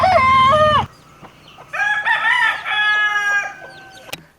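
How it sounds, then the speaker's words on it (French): Two farmyard roosters crow at dawn in a hillside village, one long loud crow followed after a pause by a second, slightly fainter crow with a few short clucks and a sharp knock at the end. "2 coqs de la basse-cour"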